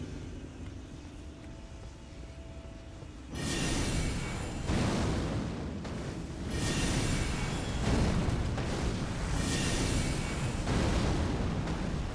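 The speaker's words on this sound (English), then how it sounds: "Damage that explosion did." A large explosion in the video game Elden Ring bursts in abruptly after a quieter stretch, followed by several rolling, booming waves of rumbling blast noise that stay loud and dense to the end.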